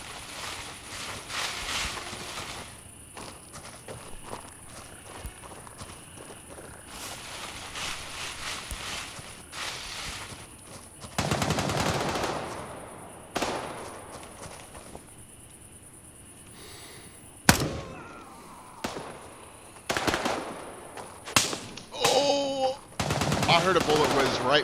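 Bursts of automatic gunfire crack through a night firefight in a tactical shooter game, some shots distant and others sharp and close, with one loud crack near the middle and a speaking voice now and then.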